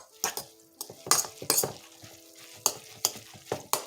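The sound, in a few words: stirring spaghetti squash in a pan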